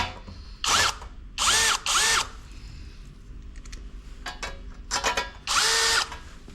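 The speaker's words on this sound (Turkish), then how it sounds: "Buranın da vidalarını atalım." A power drill drives screws into a metal machine stand, five short loud bursts of whirring with gaps between, close by with no talk.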